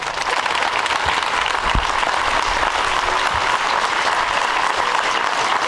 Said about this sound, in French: un lâcher de ballon couvert d'applaudissements